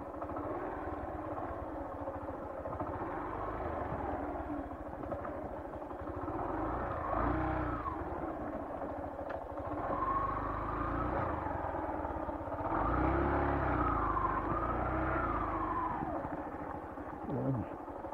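A motorcycle rides a rural road between Tuy-an West and Burak via Dalusan, Maasin, Iloilo, its engine a steady moderate drone with rises in revs, wind and road clatter throughout.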